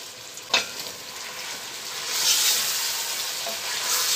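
Onions frying in a pan, a steady close sizzle that swells louder midway, with a brief clink of a utensil near the start.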